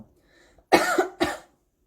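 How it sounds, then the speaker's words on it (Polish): A woman coughs twice in quick succession, close and fairly loud, each a harsh burst after a quiet moment, her throat dry from air-conditioned mall air. "tak chcę mi się kaszleć"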